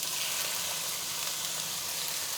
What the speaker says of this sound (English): First, I'm gonna add in the onions right here. Let that saute for a sec.